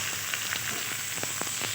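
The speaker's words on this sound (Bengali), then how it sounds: "এবার ফোড়নগুলো ভাজা হয়ে গেছে আমার" Whole spices temper in hot oil for a white potato curry with black pepper, giving a soft, even frying hiss with faint spoon clicks; no talking.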